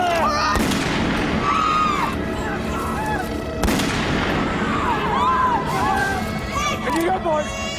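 Gunshots fired at an unarmed man in a police drama standoff: two sharp, loud cracks cut through a dense, busy background of voices and commotion, with shouting continuing around them.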